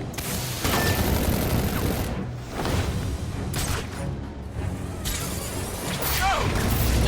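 Heavy gunfire in the video game Batman Arkham Origins, loud rolling bursts of shots with short gaps and impacts, dense and near throughout.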